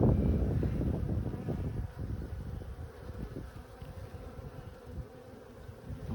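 Bees humming in a continuous close drone during a beehive frame inspection, louder at first and then settling to a steady buzz with light wind noise.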